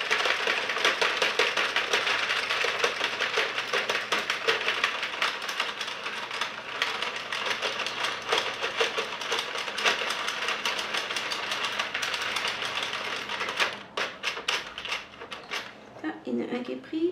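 A domestic knitting machine's carriage is worked to release a knitted piece, making a steady run of rapid clattering, ticking mechanical noise that carries on loudly for most of the stretch before thinning into a few scattered clicks near the end.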